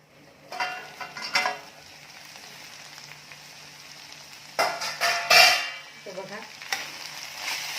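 Bottle gourd vegetable steam-cooking with lentils in a covered pan: a low steady simmer broken by a few louder bursts of sizzling and clattering, close by, with no talking.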